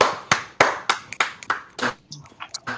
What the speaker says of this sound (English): Let's clap it up for the one and O's.